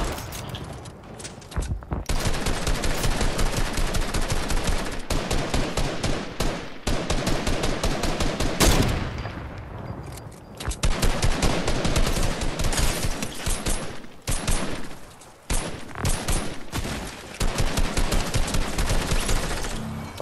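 Dense, loud Fortnite gunfire, rapid overlapping shots and bursts firing almost continuously for about twenty seconds, with only brief dips between volleys.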